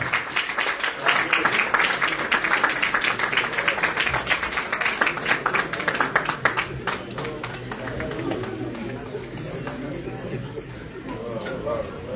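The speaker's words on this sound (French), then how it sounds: "Des applaudissements encore, s'il vous plaît, à leur endroit." Audience applause at a press conference for Francis Ngannou's next fight: dense, steady clapping fills the first several seconds, then thins and fades, with voices talking over it.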